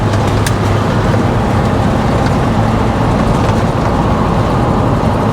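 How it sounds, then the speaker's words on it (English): A 1970 Chevrolet El Camino with a 350 V8 drives down the road, its engine a loud, steady drone with a continuous low rumble and broadband road noise throughout, no voices over it. "Motor's not a high performance 350, a good running motor"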